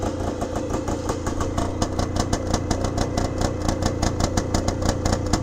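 A 1974 Bultaco Alpina 250cc motorcycle engine idles loud and close, a steady low rumble with a rapid popping exhaust pulse.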